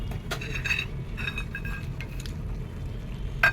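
Small lentil dumplings (bori) drop into a pan of simmering pumpkin greens, a few light clinks and taps against the pan over a steady low background, one sharper knock near the end.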